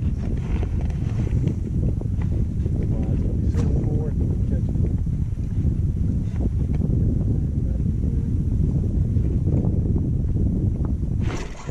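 Steady, loud wind buffeting the microphone out on a lake during a bass-fishing trip from a boat, a constant low roar running through the whole stretch with a few faint knocks and no talk.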